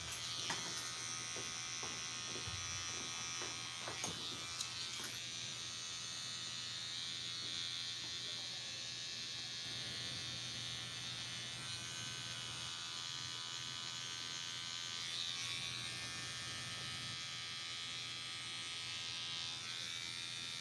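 Electric hair clippers trim a woman's sideburns in a salon, a steady close buzz running unbroken for about twenty seconds with faint clicks and no talk.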